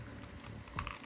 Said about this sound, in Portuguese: o teclado que eu utilizava antes, que é esse teclado aqui